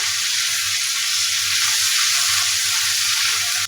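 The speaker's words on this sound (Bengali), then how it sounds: "পেঁয়াজের সাথে আমি রসুন আর আদা কাঁচা গন্ধটা দেওয়া পর্যন্ত পেঁয়াজটাকে ভেজে নেব" Onion frying with garlic and ginger paste gives a steady, dense hiss of sizzling oil, loud and close, unbroken for a few seconds with no voices.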